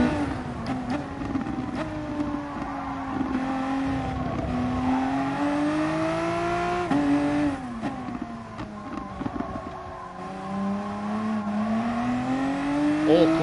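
A race car engine in a racing video game drones steadily near the listener, its pitch rising on acceleration and dropping through downshifts in the braking zones, continuous for the whole stretch.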